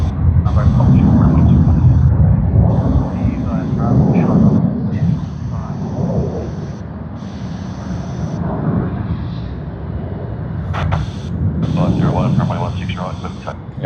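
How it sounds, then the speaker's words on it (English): Japan Airlines jet from Tokyo Haneda arriving on runway 16L at Sydney Airport, a loud steady roar of engines and rushing air that swells and eases, with someone talking over it. "We do have another arrival that's on runway 16L. And this is Tokyo Haneda service on Japan Airlines JL51."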